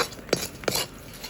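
A utensil stirs lemon juice into a lemon pickle mix of well-fried chilli in a pan, giving two quick metallic scrapes and clinks against the pan with quiet pauses around them.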